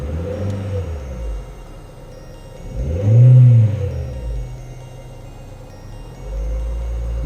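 A 2004 Renault Scenic engine, just fitted with new spark plugs, revs once in a smooth rising and falling swell over a steady low idle, heard close with no talking.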